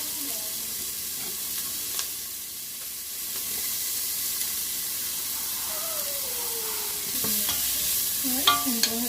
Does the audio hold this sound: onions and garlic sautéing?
yes